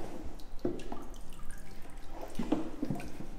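Water drips and spatters from a paper-making frame after pulp is scooped from a vat, several separate close drops with small splashes and quiet pauses in between.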